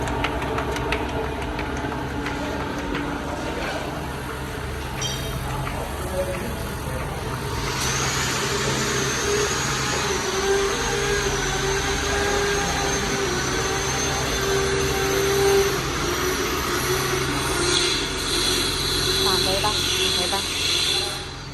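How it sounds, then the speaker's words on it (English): A dry polishing machine for phone screens runs steadily throughout, buffing out deep scratches with a constant, loud whirring motor hum that never stops. "Then we put in our polishing machine like this."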